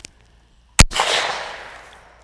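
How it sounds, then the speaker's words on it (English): A rifle fires a single CCI Big 4 .357 shotshell into 3/4-inch plywood from about five feet, a sharp close crack followed by a brief hissing decay, after a faint click before the shot. "I'm gonna shoot it a little bit lower."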